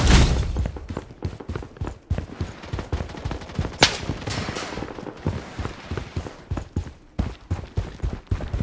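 AK-47 gunfire in the shooter game Project BloodStrike: dense, rapid bursts of close, loud shots fire in quick succession throughout, with one especially sharp blast partway through and no talking.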